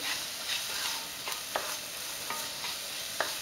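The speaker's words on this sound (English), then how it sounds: "In goes the chorizo. That's the 2 chorizos going in." Two chorizos frying in a pan: a steady soft sizzle with occasional light pops and crackles, fairly quiet and continuous with no voices.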